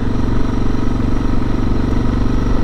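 A motorcycle engine idles before a ride on a sunny day, a steady low mechanical chug with a regular pulsing beat, close and even throughout, with no talking.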